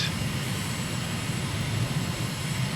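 Airplane engine roaring during takeoff in Microsoft Flight Simulator, a steady, loud drone with a low rumble and constant whine that holds evenly throughout.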